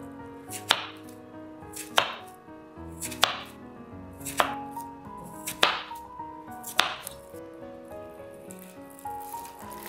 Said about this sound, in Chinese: 现在我们再把它切成小块，薄厚同样的根据自己的喜好来切就可以